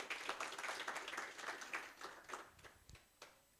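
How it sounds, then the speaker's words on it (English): Audience applause for a professor at a caregivers forum on non-communicable diseases, a dense patter of clapping that thins out over a few seconds and ends in a few scattered claps. "Shall we clap for Professor again?"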